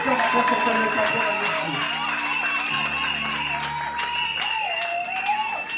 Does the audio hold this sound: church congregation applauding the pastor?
yes